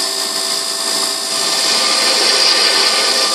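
An Emco Compact 5 CNC lathe machines a model engine backplate, a steady high-pitched cutting whine with a constant motor hum, moderately loud and unbroken throughout.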